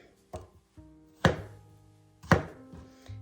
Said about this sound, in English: we're going to cut up our chunks of watermelon